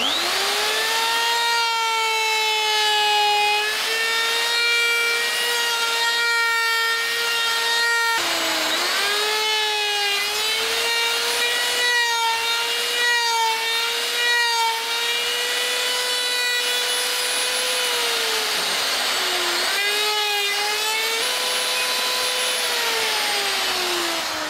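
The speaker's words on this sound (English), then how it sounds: "rotate the mast a bit at a time, routering away at the mast as we go" A router carves a wooden boat mast as it is rotated bit by bit, giving a loud, continuous high-pitched whine with rich overtones that briefly dips and recovers several times as the cut loads and eases.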